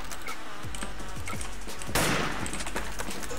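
An old weapon fires repeatedly in the online shooter Wolfteam, a fast run of sharp, close gunshots with one louder burst near the middle and no talking.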